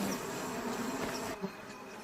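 A dense, continuous buzz of many bees swarming close by as a badger raids their nest, steady throughout with a slight drop in intensity near the end.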